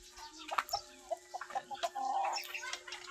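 White leghorn chickens clucking in a rapid, busy series of short calls with a few longer squawks, fairly close and moderately loud with no talk.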